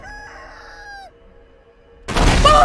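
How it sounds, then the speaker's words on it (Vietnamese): A rooster crows loudly in a long, drawn-out call, followed by a sudden burst of broadband noise like a crash or flapping, with no talk. "Gà điên trên cao nguyên"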